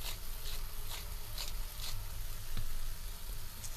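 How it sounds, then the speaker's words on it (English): Potatoes, tomatoes and spices sauté in a pan for aloo matar, giving a steady, close sizzle with faint scrapes and stirring taps throughout and no voices. "So we're going to just saute them and just let them sit so that the masala cooks"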